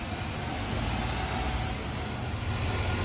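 A truck pulls in close by, a continuous low engine rumble with a faint air-brake hiss, steady and fairly loud, with no voices.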